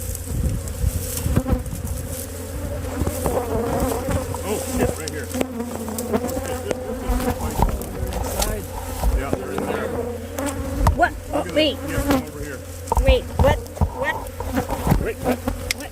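A swarm of invasive killer bees buzzes densely and continuously close by, a thick droning hum with shifting pitches, while people talk now and then over it.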